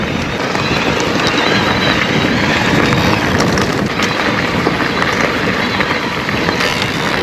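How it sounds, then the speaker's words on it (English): Strong wind roars across the microphone at the top of a moor in the Yorkshire Dales during an electric mountain bike ride, a dense, constant, loud rushing buffet with no pauses and no speech. "Windy now"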